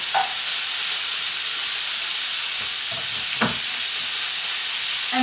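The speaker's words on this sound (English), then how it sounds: "we're going to go ahead and just put enough meat in the pan. It's super hot." Meat fries in a very hot pan with a loud, continuous broadband sizzle and hiss, close up and steady, with a few faint utensil scrapes and knocks in between and no talking.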